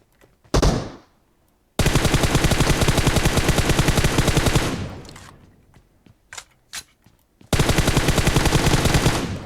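Machine gun fire in PUBG Mobile, loud and close: a short opening burst, then two long sustained streams of rapid automatic shots separated by a fading stretch with a few scattered single shots.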